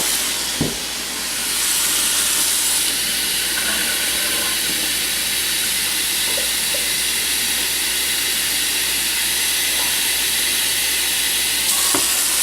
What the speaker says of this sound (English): It is an electric kettle.